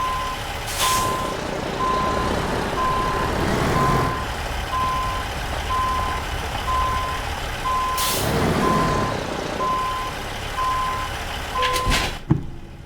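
A truck backing up in American Truck Simulator, its reversing alarm beeping at a steady, regular pace over a continuous engine rumble, with a sharp air-brake hiss near the end.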